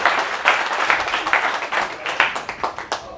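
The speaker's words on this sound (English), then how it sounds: "everybody give a round of applause for Will for creating this event" An audience claps in applause for Will Roundtree at a meetup, a dense steady patter of many hands that is loud and close, with faint voices under it, fading slightly toward the end.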